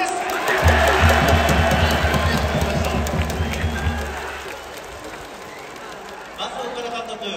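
A large baseball stadium crowd cheers and applauds for the Hanshin Tigers after they clinch a Japan Series berth, a loud sustained roar that slowly fades, with a low rhythmic chant early on and a voice over a loudspeaker near the end.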